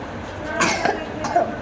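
A feverish child gives two short, close coughs about half a second apart, with only faint room noise in between.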